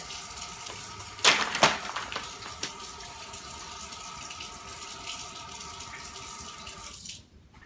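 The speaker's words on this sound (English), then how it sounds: "I'm going to turn the hot water on now." Hot water running from a kitchen tap into a sink, a steady broadband rush that lasts several seconds after a couple of brief splashy bursts near the start, then cuts off abruptly when the tap is shut.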